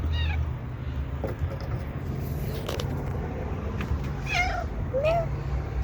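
A pet cat on a homemade backyard catio gives several distinct meows spread across a few seconds, reasonably close, over a low ambient rumble.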